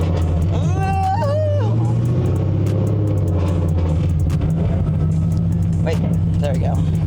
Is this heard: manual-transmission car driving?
yes